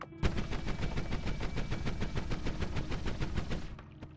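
Magic bolt spell from the video game Noita firing in a rapid, continuous burst for about three and a half seconds, loud and dense like a stream of quick shots, then cutting off.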